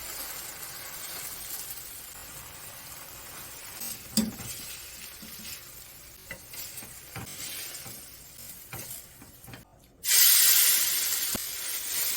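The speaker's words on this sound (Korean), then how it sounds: "안으로 기름이 들어가게 흔들어 줍니다" Potato pancake batter from a mix frying in oil in a pan that is shaken to move it, giving a steady soft sizzle with small clinks, then a sudden loud burst of spitting sizzle near the end.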